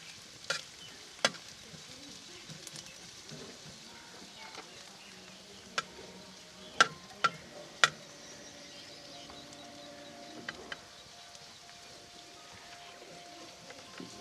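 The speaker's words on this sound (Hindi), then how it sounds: "प्याज को हल्का सा सुनहरा कर लेंगे।" Finely chopped onions fry in a pan until lightly golden for a tawa-fried liver dish: a soft, steady sizzle runs throughout with a few sharp clicks and scrapes of stirring, fairly quiet and close.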